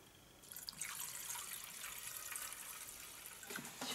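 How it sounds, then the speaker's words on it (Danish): Petrol pours in a thin, steady trickle into the carburetor of a Jonsered LM2146 lawnmower, a faint liquid splashing that runs for a few seconds and ends with a small clunk. "Skal vi lige hælde noget benzin i den, så kan vi med det samme afgøre om den har lyst til at pumpe den her"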